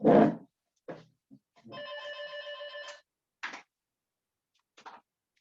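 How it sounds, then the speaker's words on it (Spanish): A landline telephone rings once in a quiet room, a steady electronic ring lasting about a second, set among a few short knocks and rustles. "Voy a colgar el teléfono para que no moleste, que es mi teléfono fijo molestando."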